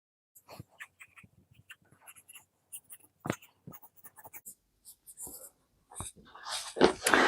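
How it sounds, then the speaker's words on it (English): Pen tracing around a pattern on fabric for a baseball hat project, soft intermittent scratchy strokes close up with quiet pauses, ending in a louder rustling burst. "So I've traced around the whole rim here, right up to the edge."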